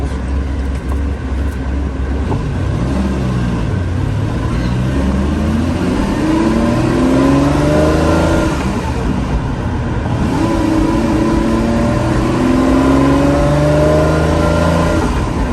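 A vintage Ferrari 365 GT 2+2 V12 idles while warming up, heard from inside the car, a loud continuous engine drone with several slow revs rising and falling in pitch, and no talking.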